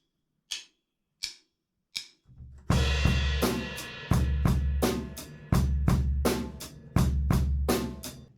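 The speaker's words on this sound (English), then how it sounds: "all we're doing for the verse groove is adding a bass drum on the and of 1" Rock drum kit playing the verse groove of a song, opening with three sharp isolated stick clicks as a count-in, then a steady loud beat of bass drum, snare and cymbal hits with regular accents.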